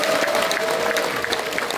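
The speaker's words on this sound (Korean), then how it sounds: "다시 한번 큰 박수 부탁드리겠습니다" Audience applause in a hall at a book launch event at Jeonju University's Superstar Hall, a brief dense burst of clapping from many hands at close range.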